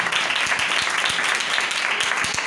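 A church congregation at a Sunday morning service applauds with dense, sustained clapping from many hands, loud and continuous, with a few sharper individual claps standing out.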